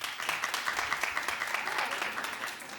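Studio audience at a daytime talk show clapping in a steady, moderate patter that carries through the whole stretch, with no voices over it.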